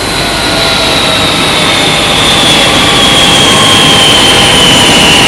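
Steady, loud roar of a Messerschmitt 262 jet fighter's engine from wartime footage, a continuous broadband rush with a faint high whine gliding slowly downward, sustained at even volume throughout with no talk.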